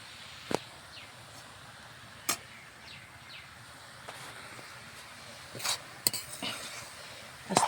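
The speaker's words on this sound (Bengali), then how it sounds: "এখন আর ঢাকবো না, আস্তে আস্তে লেড়ে লেড়ে ভাজবো" Shol fish curry with vegetables frying uncovered in a karahi, stirred slowly, giving sparse metallic scrapes and clinks of a spoon against the pan at a moderate distance over a low background hiss, with no talk.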